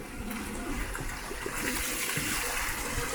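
Water running and splashing from a stone fountain on Isla del Sol, a steady close gushing trickle that brightens midway, with no clear talk.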